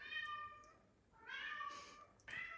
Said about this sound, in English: That's my cat, Nico.